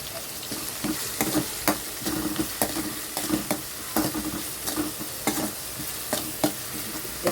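Broad beans and onions fry in a pan with a soft sizzle, broken by frequent clicking scrapes as the mix is stirred and turned. No one speaks.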